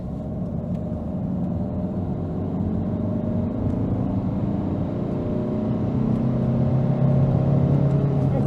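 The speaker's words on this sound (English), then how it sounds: "Now let's see how the car accelerates." A Volvo V40 1.6 D2 diesel hatchback accelerates from inside the cabin, a steady droning engine note that climbs gradually in pitch and loudness under constant road and wind noise.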